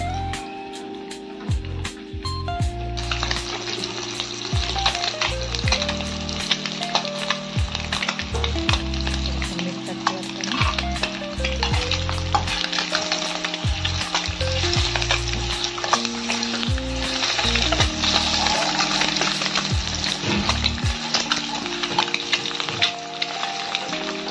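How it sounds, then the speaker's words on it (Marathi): Eggs coated in turmeric, red chilli and salt shallow frying in hot oil, with a continuous loud sizzle and crackle throughout, plus intermittent scraping and stirring of a utensil in the pan. "मस्त असे शॅलो फ्राय करायचे आपल्याला हे अंडे."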